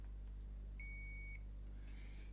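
A multimeter in diode mode gives a single clear electronic beep lasting about half a second over a steady low hum, followed by a faint scrape and no talking.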